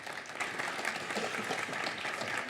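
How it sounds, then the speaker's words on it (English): An audience applauds a mayor at a prison memorial dedication, with dense, even clapping from many people sustained at moderate loudness throughout and no voices over it. "Let's give Mayor Schmitz a round of applause and welcome him to the microphone"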